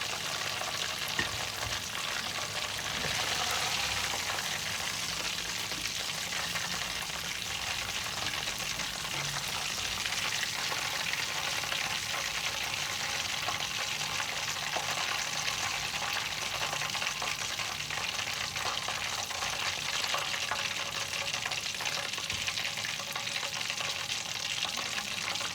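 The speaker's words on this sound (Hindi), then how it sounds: "अभी इनको निकालती हूँ, फिर नेक्स्ट डालती हूँ।" Chicken wings deep-frying in hot oil on a medium flame, a steady dense sizzle and crackle running loud and close throughout with no talk.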